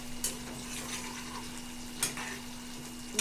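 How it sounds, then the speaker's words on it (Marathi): Chicken sukka gravy being stirred and fried in a pan, with a steady low sizzle, a few scraping spoon strokes, a faint hum underneath and no talking. "आता आपण हे 5 मिनिटासाठी पूर्ण सतत आपण ते"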